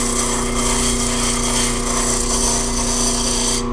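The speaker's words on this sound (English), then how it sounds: "I'm just trying to get a nice gradual taper on this sander." A power sander works the taper of a paracord stockwhip, giving a steady, loud motorized whir with an even grinding hiss that holds unbroken throughout, with no voices.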